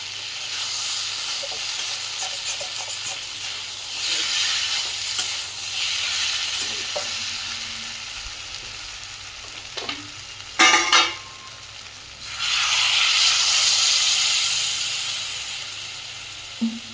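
Water poured into a pan of frying potato and chickpea curry, with a steady sizzle and stirring scrapes, then a sudden loud hissing surge of steam.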